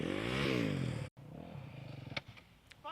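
A dirt bike engine revs and climbs in pitch, drops out suddenly as the bike leaves the ground on a jump, then returns lower with clattering and rough idle sputters, close and loud.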